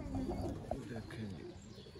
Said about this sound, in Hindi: शानदार परवाज़ों के मालिक दोस्तों ये कबूतर है